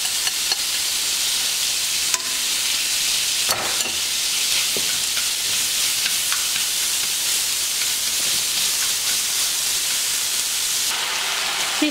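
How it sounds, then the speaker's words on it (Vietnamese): Meat filling stir-fried in a pan, reused after cooking shrimp, for Vietnamese tapioca dumplings: a steady close sizzle with scraping stirs throughout, no talk. "Chúng ta xào cho nhân cho chín lên."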